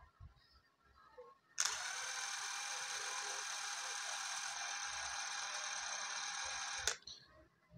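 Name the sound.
DeWalt 12V impact driver running at lowest speed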